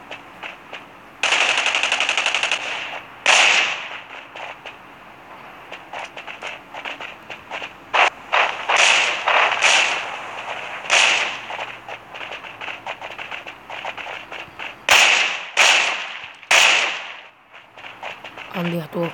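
Gunfire in the battle-royale video game Rules of Survival: sharp bursts of automatic shots and single cracks come in irregular clusters, loud and close, with a player's voice talking between them.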